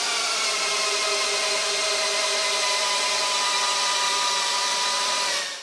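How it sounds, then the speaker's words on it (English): A DeWalt DCD999 cordless hammer drill drives a 12 by 400 mm screw into wood, its motor whining at a steady, loud, sustained pitch for about five seconds before winding down at the end, with no voices. "The 400mm screw is sunk with confidence."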